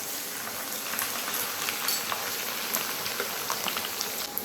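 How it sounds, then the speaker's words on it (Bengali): Potatoes deep-frying in a generous amount of hot oil, a dense, even crackling hiss like heavy rain that holds steady throughout, close and alone. "এবার আমি এই আলুগুলো তেলের মধ্যে ছেড়ে দেব"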